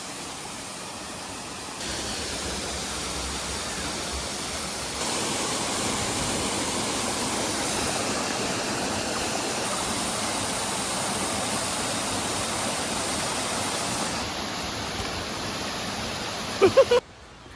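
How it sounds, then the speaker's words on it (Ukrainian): Constant, loud, rushing roar of a mountain waterfall near Hoverla, steady throughout, with a few sharp clicks near the end. "От він, цей водоспад."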